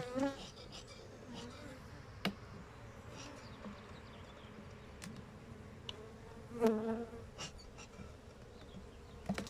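A dense, steady buzz of many honey bees close by during a hive transfer, with occasional louder passes and soft handling bumps.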